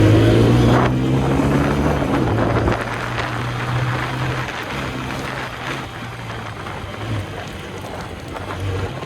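A TVS Apache RTR 160 4V motorcycle engine hums steadily during a ride, a low droning note that rises and settles under heavy wind rush, with no voices.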